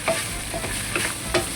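Celtuce, egg and black fungus stir-fry in a wok, a steady sizzle broken by a few quick spatula scrapes and stirs, close and clear with no talking.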